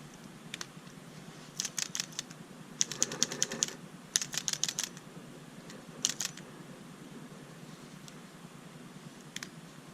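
Small, crisp plastic clicks from a Tombow Mono Graph 0.5 mm mechanical pencil's lead mechanism come in quick irregular clusters over soft room hiss, close up and fairly quiet.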